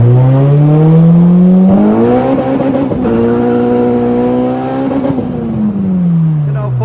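A Honda Civic with a K20 engine accelerates hard through the gears, its loud, close engine note climbing in pitch, dropping at each shift, then climbing again, with a final fall as it eases off.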